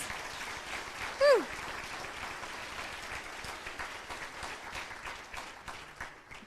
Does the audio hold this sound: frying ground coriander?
no